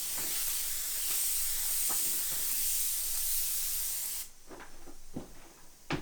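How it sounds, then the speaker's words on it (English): Steady broadband hissing of a spray nozzle applying Laropal A81 resin varnish onto an old oil painting runs for about four seconds, then stops, leaving faint soft clicks and taps close by. "a thin layer of Larapal A81 resin, dissolved in Shell Sol A and applied by spraying"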